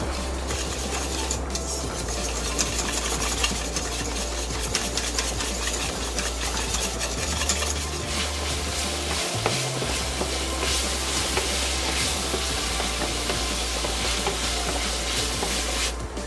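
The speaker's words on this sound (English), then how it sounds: "crack two eggs into a pan, and then add the Reggiano Parmesan and just mix it together" Steady, close stirring and scraping as cracked eggs and Reggiano Parmesan are mixed together in a pan, with a constant low hum underneath and brief clinks, no voices.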